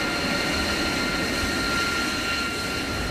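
An AV-8B Harrier II jet engine gives off a loud, steady, broadband roar with a sustained high whine, filling the whole stretch without pause or voices.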